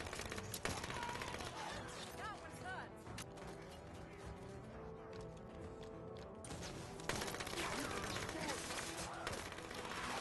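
Rapid SMG fire in the Halo 5 video game, with bursts of automatic shots and impacts running throughout amid game sound effects and music, loud and continuous with a brief lull near the middle.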